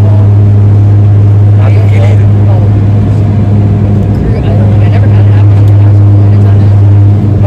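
A vehicle engine idles loudly as it reverses on a snowy trip to Toronto, a deep steady hum close by with scattered faint clatter and background voices.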